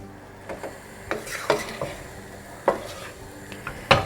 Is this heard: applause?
no